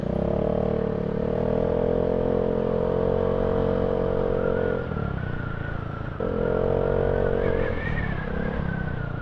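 A Yamaha Fazzio scooter engine drones close by while riding, rising and falling in pitch as it speeds up, eases off briefly, then revs again.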